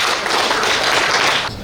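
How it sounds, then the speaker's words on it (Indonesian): An audience at a stakeholder gathering in Lombok claps together in a brief, dense burst of applause, close and steady, then cuts off sharply at the end. "Tepuk tangan apa yang ini"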